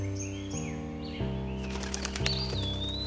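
A cartoon pigeon flapping its wings over a plucked musical score, a quick fluttering burst midway through amid chirpy tones and changing notes.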